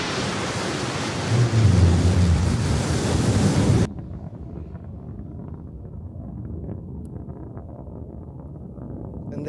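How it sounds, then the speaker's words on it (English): A deep, loud Blue Origin BE-3 rocket engine roar at launch rumbles like distant thunder, then abruptly drops to a softer, sustained crackling rumble. "We can hear that BE-3 engine just roaring through the sky"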